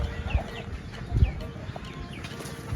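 Chickens cluck a few times at close range on a farm, short soft calls over a low bustling background with no talk.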